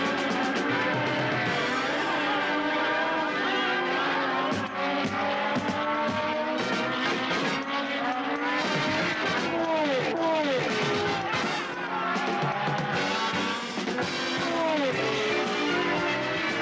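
A McLaren and a Lotus Formula One race car scream past at full throttle, their high engine notes rising and falling in pitch with gear changes and passes, loud and continuous throughout.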